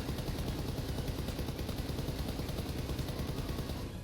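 Sustained automatic gunfire from a weapon in PUBG on console, a dense rapid stream of shots at steady loudness running the whole time with no talk, mixed with game background noise.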